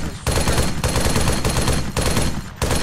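Loud, close automatic gunfire comes in long bursts of rapid shots, broken by several brief pauses between them.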